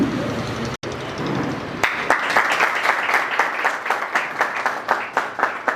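Audience clapping at an assistant taluka development officer's retirement function, starting after a brief murmur and rising into steady, dense applause from a large crowd that carries on to the end.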